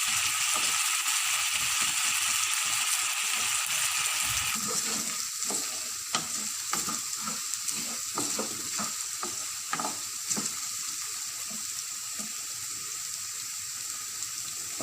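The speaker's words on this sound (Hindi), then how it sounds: "थोड़ी देर के लिए इनको हम फ्राई करेंगे ताकि वो थोड़ा नरम हो जाए।" Potatoes fry in a pan over low heat for an Afghani potato omelette, giving a steady, close sizzle with scraping stir strokes breaking in now and then.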